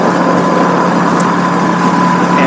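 Heard up close, the engine of a 2007 Suzuki S40 Boulevard motorcycle idles slow and low with a continuous, even drone and loud, steady rumble, no one speaking over it.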